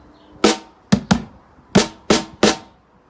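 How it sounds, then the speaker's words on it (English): Samba ending played on snare, heppy and surdo drums: six sharp ensemble hits in an uneven pattern, a single strike, a quick pair, then three evenly spaced final hits, close and loud without voices. "the snare and the heppy also join in with a little bit that the surdo's doing"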